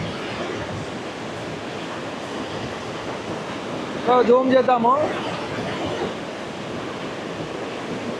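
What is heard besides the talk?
water gushing forcefully through Srisailam dam gates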